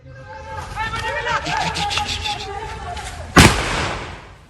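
A single sharp, loud gunshot-like crack rings out near the end, over a backdrop of steady crowd chatter and voices, during a wild boar cull in Kalikavu.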